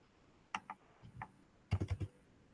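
Enter key on a computer keyboard pressed repeatedly, a couple of single taps followed by a quick burst of four close, crisp clicks, heard near with no talking.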